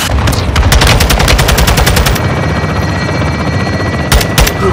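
Dense, loud automatic gunfire rattles without a break in the Ghost Recon shooter game, with rapid overlapping shots and heavy bangs throughout.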